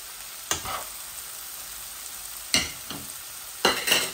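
Chicken pieces going into a hot frying pan for chow mein, with bursts of sizzling and stirring at three moments over a steady hiss of frying.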